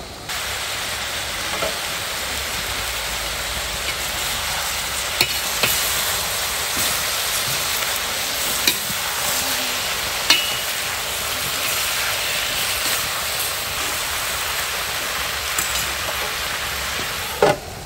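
Lamb sajiyeh with a large heap of onions frying in a pan, a loud continuous sizzle with occasional clacks and scrapes as the meat is stirred and flipped, and no voices.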